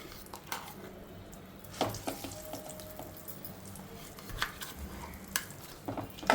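Tamarind pickle with peanuts is stirred in a pan, producing faint, scattered scraping clicks and soft sizzling at close range, with sharper spoon knocks now and then.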